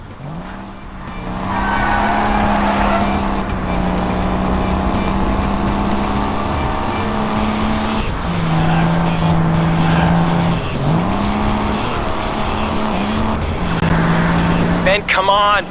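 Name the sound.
car driving with tire squeals in video game Crash Time 5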